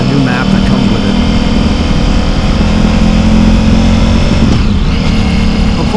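Ducati Pikes Peak motorcycle fitted with an Akrapovic full titanium exhaust and new engine map, a loud steady engine drone throughout, with a brief pitch shift near the end.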